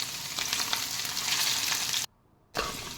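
Potato pieces fry in hot tempering oil for a spicy pepper potato dish, giving a steady close sizzle with stirring scrapes, a brief sudden silence, then the frying noise returning.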